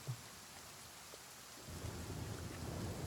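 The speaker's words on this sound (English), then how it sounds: "would be nice to find a place to get out of this rain." Steady rain hisses in a stormy scene from the video game The Flame in the Flood, with low rumbling thunder swelling in partway through and staying under the downpour, no talk.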